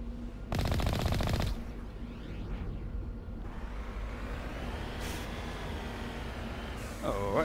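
A burst of rapid automatic gunfire from Mass Effect Legendary Edition rattles loudly for about a second, followed by a lower vehicle-like rumble and sweeping engine tones, with a voice talking over parts of it.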